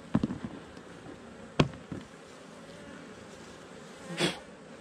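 Honey bees hum steadily around a hive during an inspection, a low continuous drone at close range, broken by a few sharp knocks and a brief louder buzz as a bee passes near.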